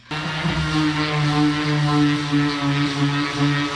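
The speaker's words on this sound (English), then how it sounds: "I'm going to hit it now with this sander" A power sander works over distressed 100-year-old wood for a baby crib, giving a steady, loud droning whir that holds an even pitch, with no talking.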